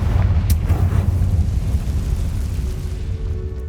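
A fiery Confringo spell blast in the game Hogwarts Legacy, a loud deep rumbling boom with a sharp crack near the start that rolls on and slowly fades, close and without talk.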